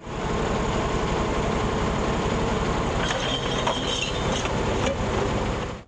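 A garbage collection truck's engine runs steadily nearby, a loud continuous low rumble with mechanical rattles and a few metallic clinks partway through, no voices heard.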